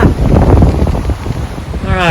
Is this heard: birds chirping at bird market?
no